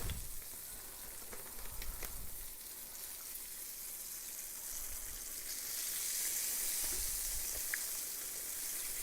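A big chicken thigh fries in a skillet with a steady hiss and sizzle throughout, holding a fairly even level that swells slightly near the end, with no talking.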